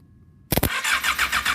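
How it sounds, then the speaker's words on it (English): A motorcycle starter motor cranks the engine after its two cables are jumped, positive to negative: a sudden spark snap, then a steady rhythmic whirring turnover close by and loud, with no talk. "To test the starter motor, I'm going to jump the two cables here, the positive and the negative."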